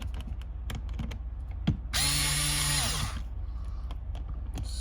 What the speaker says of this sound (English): When I put this plate on and screw it in